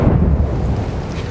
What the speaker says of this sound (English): Man, that's lightning.